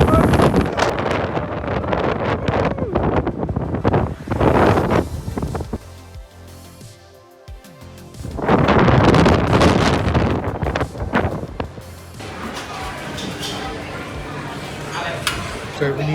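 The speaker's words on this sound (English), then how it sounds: "it's very, very windy" Strong Storm Eunice wind gusts outdoors and buffets the microphone in loud, roaring surges with a brief lull midway, while a person talks over it.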